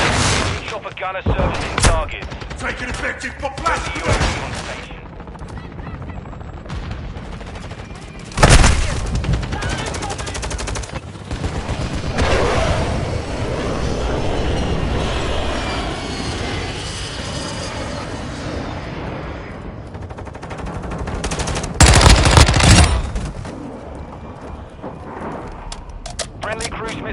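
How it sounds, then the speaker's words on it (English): Chopper gunner helicopter gunfire in Call of Duty Modern Warfare II, bursts of heavy automatic fire and booming impacts over a continuous rumble, with loud blasts partway through and again near the end, and game chatter in the background. "Chopper gunner servicing targets"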